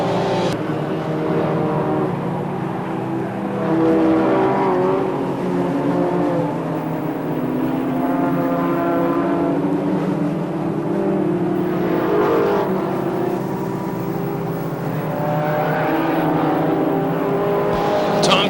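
Race cars circle the Star Speedway oval in 1997, a loud, continuous drone of several engines that swells and fades as the pack passes, with faint voices behind it.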